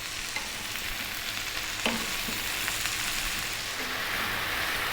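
Cabbage stir-fried and tossed in a hot pan, giving a steady, dense sizzle throughout with a few faint clacks of the utensil against the pan.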